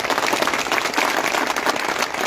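Dense, sustained applause from a large crowd at an outdoor political rally in Jhunjhunu, continuous clapping filling the whole moment without pause.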